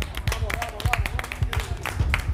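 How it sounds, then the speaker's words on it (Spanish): Applause at the end of a cooking show's countdown, a handful of separate, close claps in an uneven rhythm from a small studio group, with talk over part of it. "Un aplauso"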